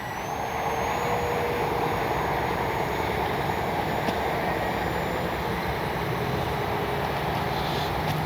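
A Kavan Bristell B23 model airplane flies in calm weather, its engine giving a steady, continuous buzzing drone that stays level and fairly loud from start to finish.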